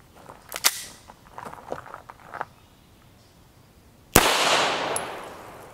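A Beretta M9A3 pistol with a 5.1-inch barrel fires a 9mm Winchester Ranger T-Series 147-grain JHP round. One sharp, loud shot rings out with a long decaying tail, preceded by faint clicks and handling sounds.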